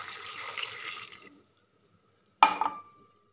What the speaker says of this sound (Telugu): ముక్కలకు సరిపడే వాటర్ కూడా వేసుకోవాలి.